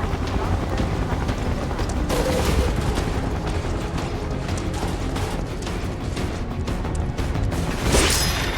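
Gunfire in the video game Final Fantasy VII Remake: dense, loud sustained shooting and bursts mixed with explosive crashes and game music, forming a continuous battle din.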